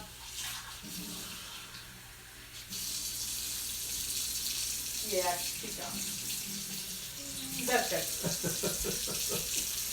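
Tap water runs steadily into a measuring cup while bread is being made at home, a continuous splashing hiss that swells near the end, with people talking over it.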